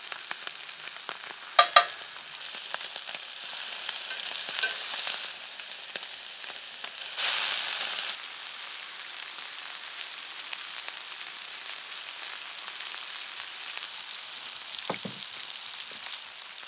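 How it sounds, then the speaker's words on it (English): Meatless meatballs fry in lard in a pan, a steady soft sizzle throughout with a brief louder hiss partway and a few faint clinks, heard alone without talk. "We're gonna also fry up these meatless meatballs in some lard."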